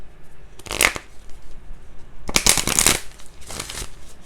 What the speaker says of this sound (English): let me just shuffle the cards real quick